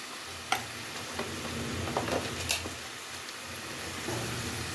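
Ground spices for gobi matar fry in oil in a pan, a steady hissing sizzle with occasional light stirring taps, close and without talk.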